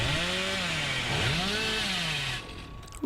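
The Hillbilly's chainsaw revs in the video game Dead by Daylight, a loud, close snarling engine whose pitch rises and dips over about two and a half seconds before cutting off abruptly.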